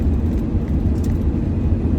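Steady low engine rumble and road noise from inside a car being driven on the way back to work, constant and close without any talk.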